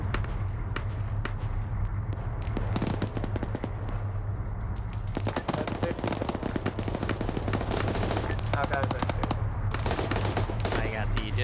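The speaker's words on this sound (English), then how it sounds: "I got the Dishka back here firing." A DShK heavy machine gun fires in a video game in long, dense, continuous bursts, loud and unbroken across the whole stretch, with crackling gunfire layered throughout.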